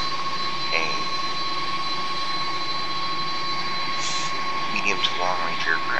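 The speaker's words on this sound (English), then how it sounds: "this is the DC-10 Series 10" McDonnell Douglas DC-10-10 airliner jet engines in Microsoft Flight Simulator X drone steadily with a loud broadband roar and constant whine, while a few brief cockpit tones and clicks sound near the end.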